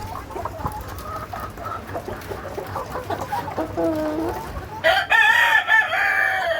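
Soft clucking from Brahma hens gives way to a loud, close crow from a light-coloured Brahma rooster near the end.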